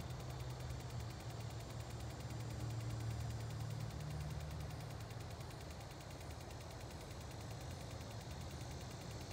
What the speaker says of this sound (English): Can you hear that click in the background?